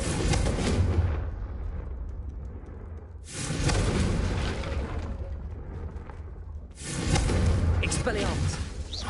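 The Confringo fire blast spell in Hogwarts Legacy goes off three times, each a loud booming burst that decays into a fading rumble before the next blast, with a voice speaking over the sound.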